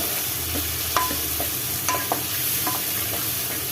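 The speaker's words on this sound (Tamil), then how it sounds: "இதை நல்லா வதக்கிக்கலாம்." Onions and curry leaves sizzle and fry steadily in hot oil for peanut curry gravy, with occasional clinks and scrapes of a spoon stirring the pan.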